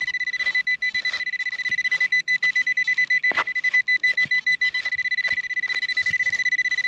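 A Pulse Dive pinpointer metal detector, used while digging a hole in a farm field, sounds a loud, continuous high-pitched tone that stutters into rapid beeping pulses, close and steady throughout.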